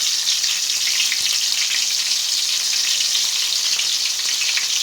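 Stuffed bitter gourds filled with kabuli chickpeas frying in oil, a loud even bubbling sizzle that holds steady from start to finish with no speech.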